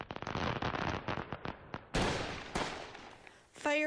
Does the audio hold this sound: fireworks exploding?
yes